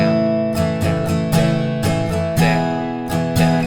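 Acoustic guitar strums the chorus chords of a song in a steady down-up pattern, bright chord hits recurring every half second or so, close and fairly loud with no voice over it.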